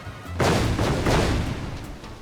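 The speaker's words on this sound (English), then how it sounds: "He's managed to dodge the first explosion, the second, the third" Explosions go off in a Final Fantasy XIV Moonfire Faire minigame: a loud boom bursts out, then rolling blasts follow in quick succession and fade away.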